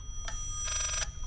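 A telephone rings backwards in the horror video game Layers of Fear, a short ringing tone followed by a longer warbling ring, moderately loud over a low ambient drone.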